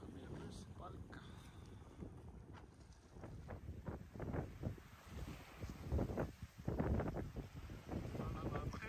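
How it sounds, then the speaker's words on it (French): Wind gusting across a sailing yacht in about 13 knots of crosswind off the Greek Dodecanese islands, buffeting the microphone in uneven rushes over a low rumbling water and hull background, with faint talk present. "on a 13 nœuds de vent"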